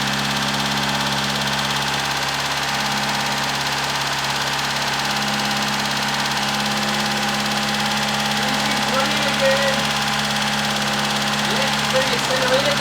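A Suzuki Satria engine running steadily at close range after its lifters were pulled and cleaned, giving a constant mechanical drone with a faint ticking; a voice speaks over it briefly.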